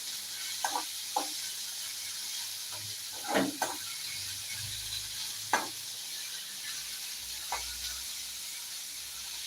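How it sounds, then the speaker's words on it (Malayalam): Onions frying in a pan for kadala curry keep up a steady hiss and sizzle, broken by occasional spoon scrapes and taps as they are stirred, with no voices. "നന്നായിട്ടൊന്ന് ഇളക്കി കൊടുക്കാം കേട്ടോ"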